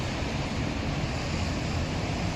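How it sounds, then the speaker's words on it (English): Rain and pouring water in Los Angeles make a dense, steady rushing wash, loud and close with a low rumble beneath, continuous and without voices. "This is what you call LA rain."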